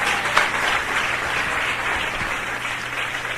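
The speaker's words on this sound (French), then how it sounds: "Allons acclamer le Seigneur." A church congregation applauds and cheers for the Lord, a dense, steady wash of clapping from many hands that carries at even loudness from start to finish with no speech over it.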